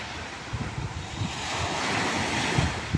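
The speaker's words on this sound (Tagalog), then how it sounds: "Lakas pa ng alon dito." Strong sea waves surging and breaking along the shore at Alcoy where small boats are moored, a steady rushing roar mixed with gusty wind buffeting the microphone.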